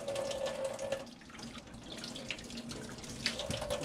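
Tap water runs steadily from an RV faucet into a sink during a fresh water system sanitizing, a continuous close hiss and splash that lasts the whole stretch without any talk.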